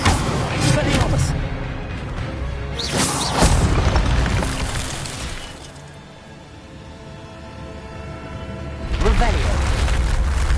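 A spell cast in a Harry Potter video game lands as deep booming blasts with crackling bursts, loud and near, mixed with busy game sounds and a speaking voice.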